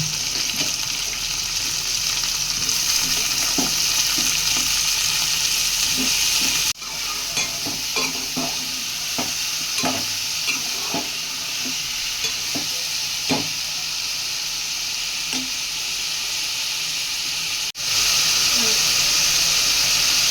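Eggplant pieces frying in hot oil for a fish egg and brinjal tamarind curry, with a constant close, loud sizzle and hiss and repeated scraping clicks of a spoon stirring the pan throughout.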